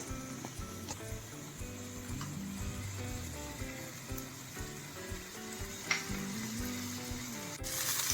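Raw prawns fry in a pan, with a soft, steady sizzle of frying under faint scattered clinks and background hum, quiet and close throughout.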